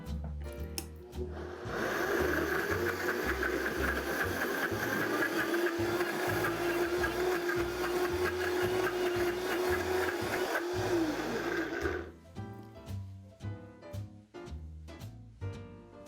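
A blender whirs coconut cake batter with baking powder and salt until smooth, a steady loud motor drone running about ten seconds with a clear start and stop, surrounded by light kitchen clatter.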